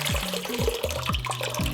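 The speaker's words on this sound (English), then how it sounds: "Then add water." Water poured into a mixing bowl of dry ingredients for French boule bread dough, a steady close splashing and gurgling stream heard alone.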